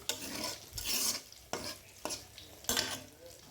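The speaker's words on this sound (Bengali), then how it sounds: "মশলা কষিয়েছি, আরও কিছুক্ষণ কষিয়ে নেব" Bengali spice paste stirred and fried on low heat, with soft sizzling under repeated scraping strokes of a spatula in the pan, about five distinct stirring bursts, fairly quiet and close.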